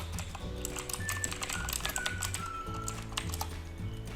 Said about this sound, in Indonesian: di command line teman-teman ketikkan apt